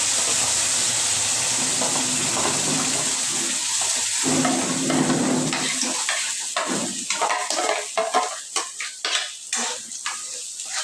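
Masala paste frying in a pan for paneer masala gravy, a steady loud sizzle and hiss that turns into choppy stirring scrapes and bursts as the spoon works the paste.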